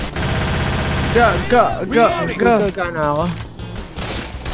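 Rapid bursts of gunfire in Left 4 Dead 2 on The Parish campaign, dense and continuous, with excited shouting voices over the shots.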